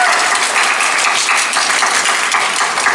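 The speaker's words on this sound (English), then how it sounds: "there's a round of applause for the Yanto Shrine" Audience applause at a Doctor Who convention Q&A panel in Wales, a steady, dense wash of clapping from a crowd that stays even and fairly loud throughout.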